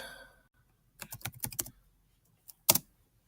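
Keys clatter on a computer keyboard as a short test title is typed, a quick burst of close taps followed by a pause and one sharp final keystroke, with no voice.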